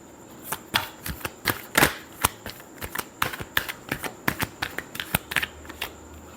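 Tarot cards being shuffled make a quick run of sharp, close slaps and flicks, irregular but steady throughout.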